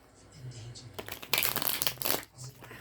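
Playing cards being shuffled quickly by hand, a short burst of riffling and crinkly flicking in the middle, loud and close, with faint low murmur before and after.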